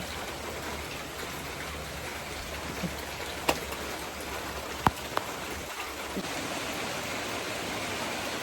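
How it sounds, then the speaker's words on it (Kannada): Rain falls in a soft, even hiss that stays faint and steady throughout, broken only by a couple of isolated sharp clicks. "ಮಳೆ ಬರ್ತಾ ಇದೆ"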